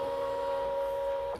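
A Brother ScanNCut cutting machine starts up to cut a flower shape from a loaded mat, giving a steady, close motor hum with a high tonal whine that holds evenly throughout and cuts off abruptly at the end.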